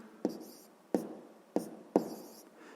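Four short pen-on-paper writing bursts while a sixth-grade math solution is worked out, each starting with a sharp tap and trailing into soft scratching, close and quiet with no talking.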